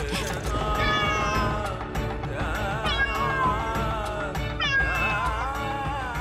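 A cat in a kitchen meows repeatedly, with rising and falling cries that sound close and clear over continuous background music.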